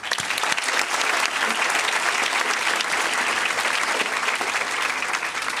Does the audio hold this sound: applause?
yes